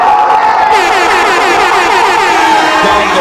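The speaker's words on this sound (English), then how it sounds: "you talking to me while the crowd going crazy?" A rap battle crowd erupts in wild cheering, a dense roar of shouts and whoops with rising cries, loud and close throughout, with talk mixed into the din.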